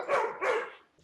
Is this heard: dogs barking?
yes